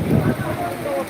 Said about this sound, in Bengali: এখন কিন্তু খুব বৃষ্টিটা আপনারা সচরাচর লাইভের মাধ্যমে দেখতে পাচ্ছেন খুব জোরালোভাবে বৃষ্টি হচ্ছে এই মুহূর্তে